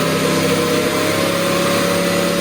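A truck engine runs on a dyno with a steady, loud, continuous drone throughout, no voices over it.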